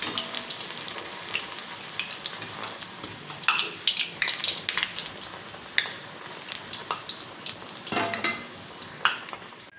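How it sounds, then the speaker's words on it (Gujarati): Puris made from potato, semolina and wheat flour fry in hot oil, giving a steady close bubbling sizzle broken by sharper splashes and clinks as they are turned. "હવે આપણે આને તળી લઈએ."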